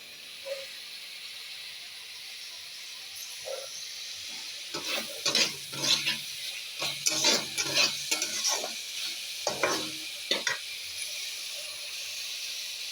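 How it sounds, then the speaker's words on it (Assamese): Sizzling mustard oil in a pan, frying until the oil separates at the edges, with bursts of stirring and scraping in the middle over a steady low hiss, close and fairly quiet. "তেতিয়ালৈকে ভাজিম যেতিয়ালৈকে ছাইডত মিঠাতেল তেলটো বিৰিঙি নুঠে।"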